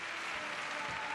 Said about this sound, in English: Well, terrific round of applause for that routine by Nashihin Binti Rosli.